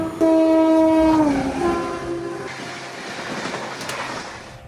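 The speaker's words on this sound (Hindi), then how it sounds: "कोई तो ट्रेन ओवरटेक कर रही है अपने को।" A train horn blares loudly with a long sustained tone that bends downward, followed by the rumbling roar of a train rushing past close by, overtaking on an Indian railway line.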